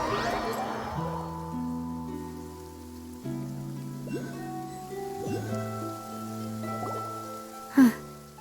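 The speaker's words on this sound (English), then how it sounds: "It's been raining non-stop for a few days now." Steady rain in a video game falls as a soft, continuous patter beneath slow, sustained game music, with one brief louder splash near the end.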